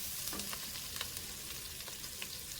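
Capsicum frying in a pan for chicken jalfrezi makes a continuous, fairly quiet sizzle with faint spatter crackles and light stirring ticks, close by and with no one talking.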